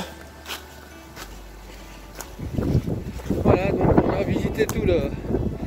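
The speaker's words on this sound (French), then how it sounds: "Il y a du vent aujourd'hui." Low rumbling wind noise buffets the microphone on the grounds of an abandoned manor, growing stronger midway, with scattered clicks and faint background voices.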